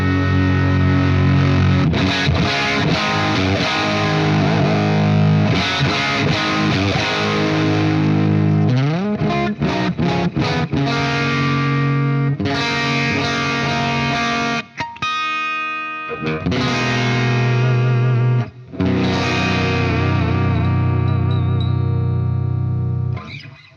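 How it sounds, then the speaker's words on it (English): Electric guitar chords strummed through a Marshall amp, loud driven and distorted, played in bursts with several brief pauses between them, heard alone without any speech. "let me try the first things I always like to do, which is just a couple of chords and hear how it cleans up"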